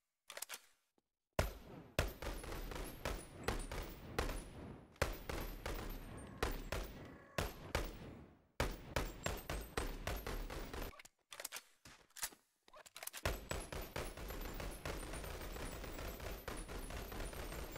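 Two guns joined together fire in the video game BoneLab, with quiet, choppy volleys of shots in rhythmic bursts separated by short silences.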